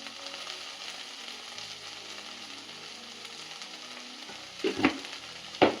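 Coriander and okra frying in hot oil with turmeric, a constant near sizzle with a couple of louder stirring scrapes toward the end, no one speaking.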